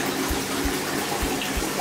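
Water rushes steadily through a Saniflo macerator unit under test after repair of a blockage in Bexley, Kent, a continuous loud gushing with a few soft low thumps, close by and without talk.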